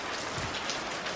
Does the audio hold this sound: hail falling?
yes